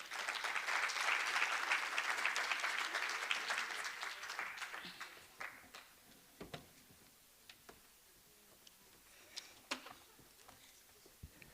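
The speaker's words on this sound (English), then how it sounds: "On round applause for the gentleman," Audience applause for a speaker at a young entrepreneurs event starts dense and steady, then thins after a few seconds into scattered individual claps and taps that trail off.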